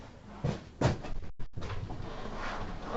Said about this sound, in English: let me close that door completely